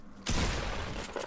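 A burst of pistol gunfire in the Fortnite video game; a sudden loud crack followed by a dense, sustained blast of noise lasting about a second, alone without talk.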